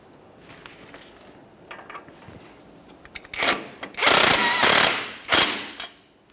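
A power tool rattles on a tie rod mounting nut of a 2004-2008 Ford F-150 in loud buzzing bursts, preceded by quieter clicks and ratcheting, close up with no talk.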